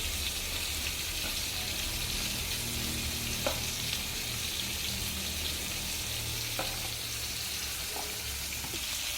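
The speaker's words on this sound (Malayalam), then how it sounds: "നമുക്കിത് എണ്ണയിൽ ഇട്ട് കൊടുക്കാം." Fish frying in hot oil with garlic, a steady soft sizzle with occasional pops and faint clinks of stirring, fairly quiet and without talk.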